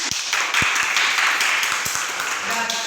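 Classroom applause after a student's speech at a sixth-grade Islamic primary school practical exam, a steady burst of clapping with sharp distinct claps standing out, lasting the whole moment.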